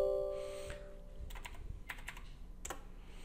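Someone types a short command on a computer keyboard in Windows 10, a few quick close clicks in small bursts after a brief tone fades, in an otherwise quiet room.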